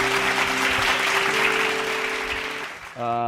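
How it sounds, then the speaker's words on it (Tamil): A church congregation claps together through a short stretch, a dense steady patter that fades as a sustained keyboard or organ tone plays beneath it. "நல்லா கைத்தட்டுங்க"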